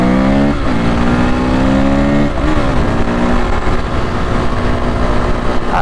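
A Suzuki Gixxer 1000 sport motorcycle rides past on the street, its loud engine rising and falling in pitch as it accelerates close by, with no talking.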